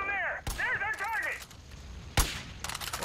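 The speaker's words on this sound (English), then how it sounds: "I like how I'm just shooting the fuck out of him." A few sharp gunshots in Far Cry 5 as the player fires at an enemy, two strong cracks standing out over a bright whining tone and background game noise, with chatter in between.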